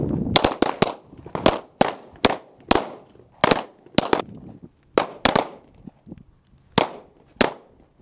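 Sharp gunshots at a shooting range qualification, a dozen or so cracks in irregular pairs and singles, loud and close with brief echoing tails, no talking.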